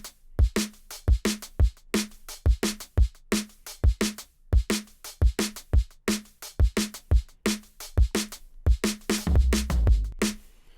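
A dry drum and bass break played from Addictive Drums 2 without effects: fast, tight kick, snare and hat hits in a steady syncopated pattern, fairly quiet, with a low rumble swelling under the last bar.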